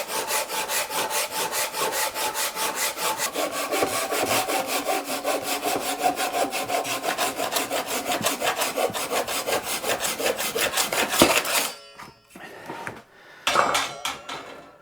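Hand sawing through soft, light wooden guitar body blanks: fast, even back-and-forth rasping strokes for about eleven seconds, close and loud, then a few scattered knocks and rubs.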